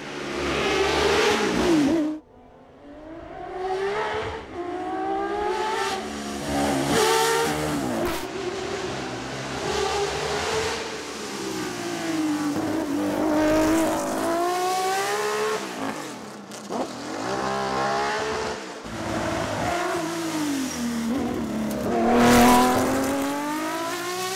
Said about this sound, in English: just to admire the lovely sound of these wonderful V12 engines, here's a bit of Matra for you to enjoy